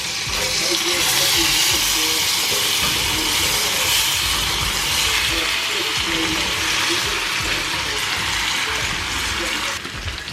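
Potatoes dropped into a hot cast iron skillet with melted butter and oil, giving a loud, steady, broad sizzling hiss that continues unbroken throughout.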